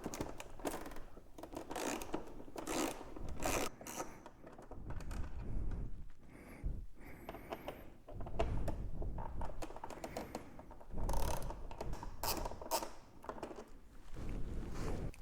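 Bolts come off a 2017-2025 Suzuki GSXR 1000 fairing with a 4mm Allen tool, giving close, irregular clicking and rattling bursts with short quiet gaps between them.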